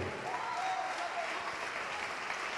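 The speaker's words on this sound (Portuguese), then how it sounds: "vamos aplaudir mais, igreja" A church congregation claps together in sustained, even applause, soft and somewhat distant, filling the room without a break.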